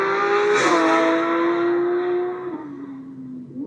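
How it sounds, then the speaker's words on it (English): A Porsche 911 GT3 engine screams at high RPM on a race track, a loud sustained wail with a sharp downshift blip, then holds steady before tailing off slightly near the end, up close with no talk. "Listen to that engine. Yeah, that's it. The top part of the RPM range."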